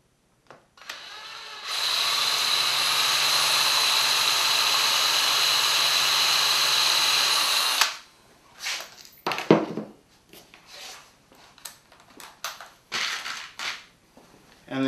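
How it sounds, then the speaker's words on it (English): A power drill bores a pilot hole in wood with a loud, steady whir lasting about six seconds, then stops, followed by scattered clunks and handling noises. "Drive another pilot hole."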